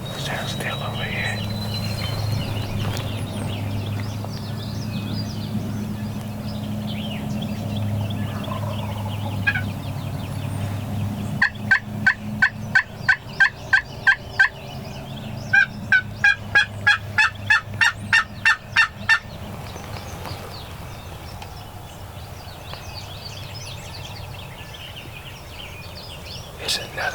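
A wild turkey hen yelps in two quick runs of sharp, evenly spaced notes, fairly distant, with quiet whispered talk and outdoor hum around them.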